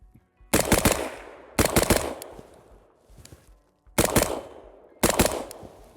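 Four loud, sharp rifle shots crack outdoors from a rifle topped with a Vortex AMG 1-10x24 LPVO scope, each a rapid double-burst followed by a ringing decay, spaced roughly one to two seconds apart.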